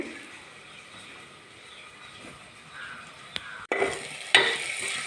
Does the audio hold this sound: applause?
no